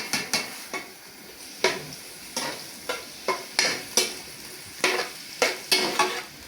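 Sizzling in a pan with repeated stirring scrapes, about a dozen bursts at uneven intervals, close and fairly quiet, with no talking.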